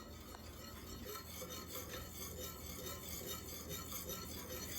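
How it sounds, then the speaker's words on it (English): A whisk scraping steadily through a thin, thickening gravy-like mixture for chicken fried steak, a soft rhythmic rasp of metal on the pan, fairly quiet and continuous with no talking. "we're going to keep whisking this until it gets thick"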